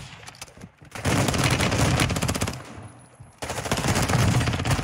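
Rapid automatic gunfire from a shooting video game, loud and close in dense sustained bursts with a short dip midway, no talk over it.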